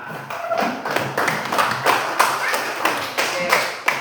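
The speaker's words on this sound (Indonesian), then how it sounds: "Tepuk semangat dulu untuk kita semua." A classroom group performs a rhythmic spirit clap, with a steady run of sharp, fairly close claps and taps in a repeating pattern, over roughly a dozen beats.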